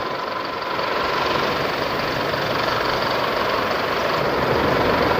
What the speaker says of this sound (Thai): มาดูกันนะเวลาวิ่ง หรือเร่งเครื่องยนต์นะ จะมีเสียงเคแก้แก้ไหมนะครับ